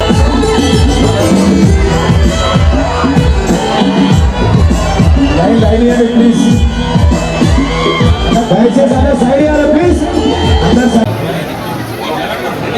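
A crowd at the Edupayala Durga temple fair claps loudly and steadily for several seconds, dense close applause mixed with cheering and chatter.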